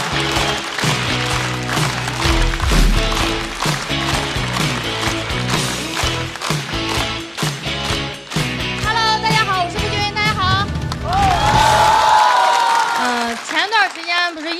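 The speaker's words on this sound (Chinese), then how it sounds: "掌声欢迎步惊云" Audience applause and cheers at a stand-up comedy show welcoming a comedian to the stage, loud, steady clapping from a packed crowd, fading out as a voice begins speaking near the end.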